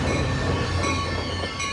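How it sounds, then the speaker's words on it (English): A northbound electric Caltrain pusher train pulls out of Millbrae station toward San Francisco, with a steady, close rumble of wheels and rail and a thin, sustained squeal running through it. "a northbound CalTrain pusher train departing towards San Francisco from the Millbrae station"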